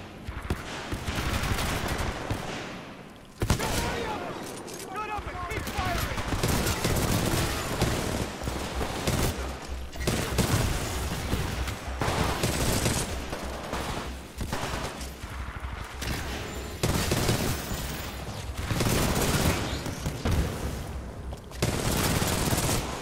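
Sustained rapid gunfire from Titanfall 2 gameplay, with dense overlapping bursts and a brief pause near the start before loud shooting continues almost nonstop.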